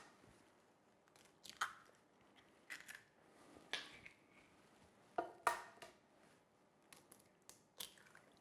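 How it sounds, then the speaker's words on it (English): Three eggs are cracked into a bowl of caster sugar, heard as faint, close taps and small cracking clicks spread across several seconds with quiet pauses between them. "and then crack in your 3 eggs"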